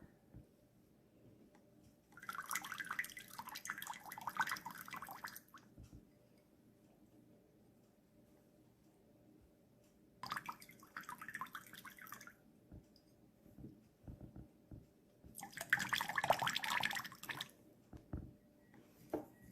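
Water trickling into a glass of absinthe over sugar, heard as three separate bursts of pouring and dripping, each lasting a few seconds, against a quiet background.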